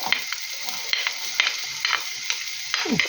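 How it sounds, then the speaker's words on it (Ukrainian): Chopped onion fries in hot oil in a pan for cabbage rolls, with a steady bright sizzle and regular spatula stirring scrapes close by. "Спочатку цибуля трошечки обсмажиться так."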